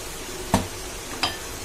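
Brinjal and potato curry being stirred in a pot, two short scraping knocks of a spoon about half a second apart over a soft background hiss.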